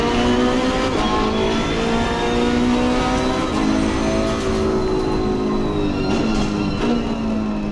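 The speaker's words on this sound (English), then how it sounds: "I will try the Ferrari on Monza" Ferrari race car engine roaring at Monza in Assetto Corsa Competizione, loud and continuous, pitch climbing through gears with brief shift dips, alone without talk.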